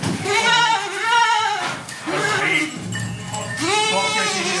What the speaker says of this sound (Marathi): हे बघा ही एक सुंदर शेळी एकदम खूप